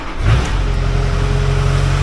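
A 2002 Chevy Silverado 2500HD with a 6.6L Duramax diesel engine and Allison automatic starts up and settles into a loud, close, steady low rumble after a brief initial rev.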